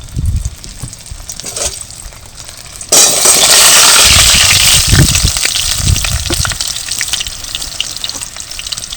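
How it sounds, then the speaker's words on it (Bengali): Boiled potatoes hit hot mustard oil in a wok and set off a loud, steady sizzle that starts suddenly and keeps going, with a few knocks and clatters of the potatoes being stirred underneath. No one speaks. "এবার সিদ্ধ করে রাখা আলুগুলো ভেজে নেব একটু।"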